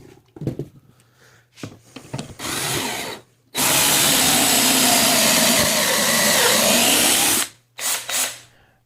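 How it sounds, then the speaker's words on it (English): A power drill whines into wood, drilling pocket holes with a Kreg Mini jig, in a few short bursts, then runs loud and continuous for several seconds before stopping, with brief handling noises around it. "Adjust the fence as necessary and drill another test hole."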